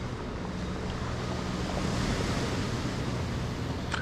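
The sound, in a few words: waves crashing on the shore, Tenerife beach promenade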